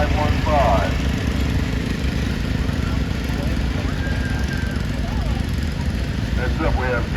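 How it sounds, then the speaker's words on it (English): A 1967 Simplicity 616 garden tractor runs in a tractor parade at the Mason, Michigan threshing show, its small engine giving a steady, close, rough drone with voices nearby. "Next up, Olivia Palmer, 1967 Simplicity 616."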